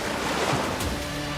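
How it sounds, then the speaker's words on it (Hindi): Sea waves wash steadily along the shore beside a temple, making a continuous broadband roar with no distinct breaks and no voices. "वैसे ही समुद्र की लहरों की आवाज स्पष्ट सुनाई देने लगती है।"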